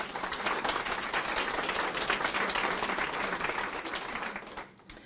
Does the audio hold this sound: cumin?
no